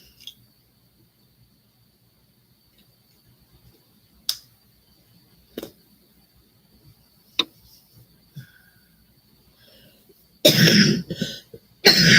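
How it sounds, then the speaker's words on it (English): A person coughs several times, sharp isolated bursts spaced a few seconds apart over a quiet indoor background, ending in a louder, longer run of harsh coughing and throat clearing. "Cough a few more times to get it broke up and I'll be good."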